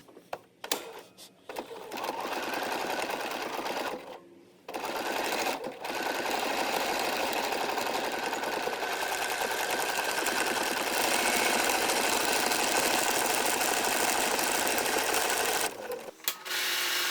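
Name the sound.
sewing machine stitching buttonholes on a shirt placket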